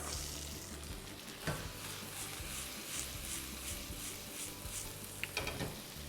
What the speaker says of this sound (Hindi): हाई हीट पर प्याज है उसे हम पकाएंगे।